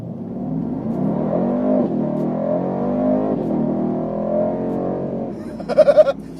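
A 2020 Mercedes-AMG C63 S Coupe's V8 drones steadily under hard throttle, a deep engine note running throughout, then closes with a few quick loud pulses near the end.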